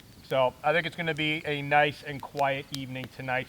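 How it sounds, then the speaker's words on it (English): Crickets chirp faintly and steadily in the woods at evening beside a hot tent campsite, a thin continuous trill sitting under a man's close, clear talking throughout. "I can still hear some crickets in the background"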